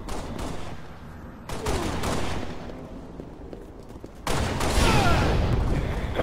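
Gunfire and bursts in a video game firefight, dense and continuous with louder volleys swelling near the end, no clear talk over it.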